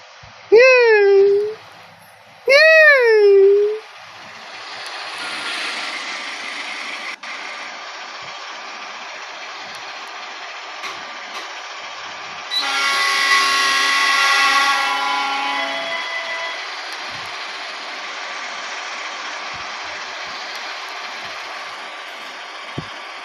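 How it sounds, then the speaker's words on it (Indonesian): Blambangan Ekspress train hauled by a CC 206 locomotive at Tambun station, with two loud horn hoots, then a low, steady engine rumble and a hiss of air brakes. "ini kereta api Belambangan teman-teman akan berhenti kembali di stasiun Tambun"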